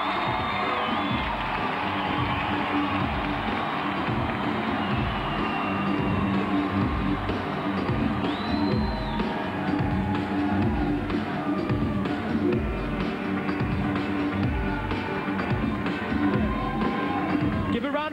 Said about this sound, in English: Round of applause to our Miss Personality, Zenobia!